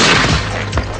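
Parachute firework bursting in the night sky, a sharp loud boom followed by a quick rumbling crackle and a second thump near the end, all within a second.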